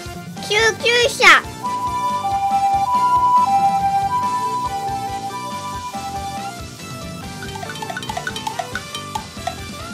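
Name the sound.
ambulance siren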